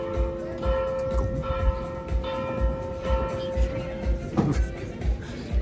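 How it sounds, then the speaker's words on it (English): A church bell in San Miguel de Allende, Mexico, tolls the half hour with a sustained ringing tone over a busy outdoor background and occasional voices. "This is the half hour bell."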